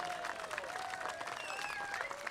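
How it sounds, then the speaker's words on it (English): Crowd applause at an outdoor Tea Party rally in Sugar Land, Texas, a moderate, continuous patter of clapping with a few whistles and cheers rising over it. "deserve a tremendous round of applause for the work that they've done to put this together"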